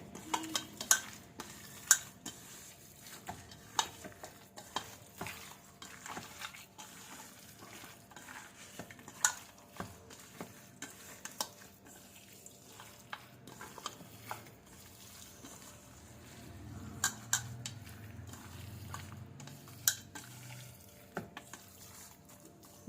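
Chicken being mixed with spices by hand for a chicken fry: soft, quiet squelching and rubbing with scattered light clicks and taps, steady and close, with no talking.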